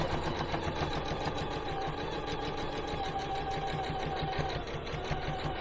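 A sewing machine stitches continuously, its rapid, even mechanical whirring and needle chatter holding at a steady moderate level for the whole stretch with no talking.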